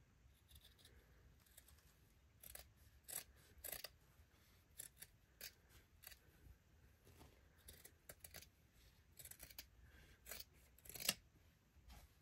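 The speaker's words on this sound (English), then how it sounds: "So first thing I'll do is I'll just cut it out." Scissors snipping through fabric while trimming a candy heart zipper mini pouch, a quick run of crisp, close cuts and rustling with short pauses between them, heard alone without talk.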